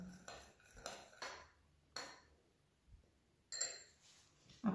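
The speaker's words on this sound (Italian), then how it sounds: "Con un cucchiaino miscelo." A teaspoon stirring olive oil, salt and dried basil in a dish, with a handful of light metallic clinks and scrapes at irregular intervals, close and quiet, with no talking.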